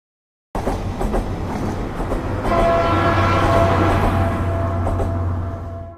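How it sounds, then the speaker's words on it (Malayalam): A small tourist train in the UK rumbles along its rails, starting abruptly with a close, steady rolling clatter that grows louder as a sustained horn-like tone joins midway and holds to the end. "അങ്ങനെ അവസാനത്തെ ട്രിപ്പും കഴിഞ്ഞ് ട്രെയിൻ അങ്ങോട്ടോ പോകുന്നു"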